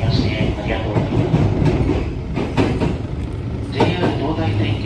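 A JR West 321 series commuter train runs on the Gakkentoshi Line, a steady interior rumble of wheels and motors heard from inside the car, with faint rail clicks and a voice speaking through it.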